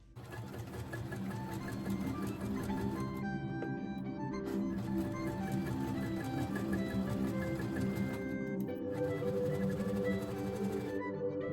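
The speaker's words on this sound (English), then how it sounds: "So we're just going to go ahead and sew across these edges." A sewing machine stitches across fabric edges with a quarter-inch seam allowance, its needle chattering in a steady, fast rhythm up close, with brief slowdowns in between.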